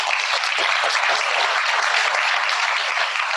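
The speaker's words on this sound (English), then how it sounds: "Give everybody a round of applause for that." Audience applause during a gospel talk about finding the lost city of the apostles: a steady, dense wash of many hands clapping at once, sustained and even throughout without a break.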